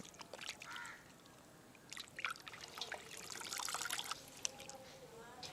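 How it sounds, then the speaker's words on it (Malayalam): Raw chicken pieces, about four kilos of meat, being washed in water for a Chettinad chicken curry, with quiet trickling and splashing of liquid under soft background sounds. "ഒരു 3-4 വെള്ളത്തിൽ ഇത് ചിക്കൻ ഒന്ന് കഴുകി വൃത്തിയാക്കി എടുക്കാൻ പോവാ"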